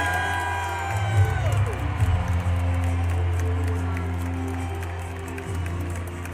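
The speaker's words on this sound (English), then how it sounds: "The crowd is going absolutely crazy." A packed crowd at a Madison Square Garden rally cheers and applauds with scattered whoops, a dense roar swelling early then easing, heard at a distance beneath a low steady hum.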